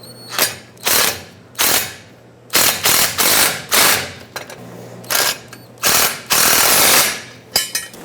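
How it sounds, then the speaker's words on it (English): A ratchet socket wrench with a 14mm socket tightens bolts on a bracket while air bag springs go onto a 1999-2007 Ford F-350, giving a series of sharp, close clicking bursts separated by short pauses. "Use a 14mm wrench and socket to tighten these up."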